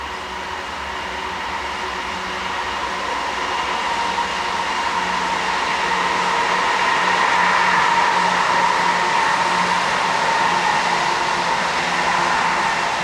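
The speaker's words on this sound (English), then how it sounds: "That's the downeaster going down to Boston." The Downeaster passenger train rolls past on its way toward Boston, a loud, steady rushing rumble of rail noise that slowly swells and holds across the whole stretch, with no voices.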